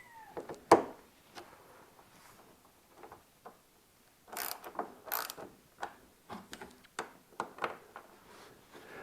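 Ratchet clicking in short bursts as screws are driven into a snowmobile bumper while fitting tunnel flares. Sharp, close ratcheting clicks come in irregular runs with quiet gaps between them.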